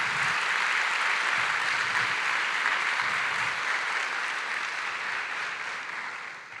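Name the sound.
applause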